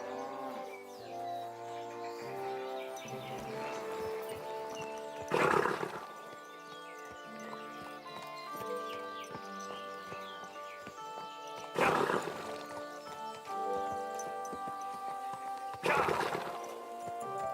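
Horse hooves from the video game Kingdom Come: Deliverance II clop along at a walk beneath a steady bed of game music, with a few louder bursts of movement and no talking.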